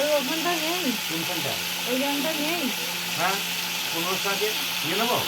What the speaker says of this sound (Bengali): চলো আলু ভাজাটা রান্না হয়ে যাক